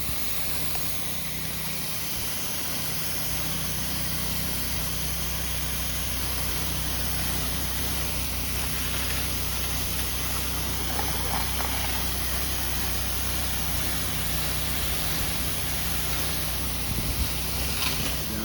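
A pressure washer rinses down the outside of a house during a soft wash job, giving a steady, broad hiss of water spray that runs unbroken and fairly loud throughout.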